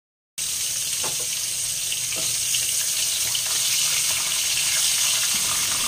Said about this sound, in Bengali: দুটো পটল ভেজে নিচ্ছি